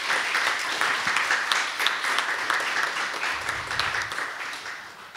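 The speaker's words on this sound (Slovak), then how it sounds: "Takže všetkým z Adastry veľký potlesk," Applause at a school awards ceremony: a broad, steady clapping crowd filling the hall, moderately loud and sustained throughout with no talking over it.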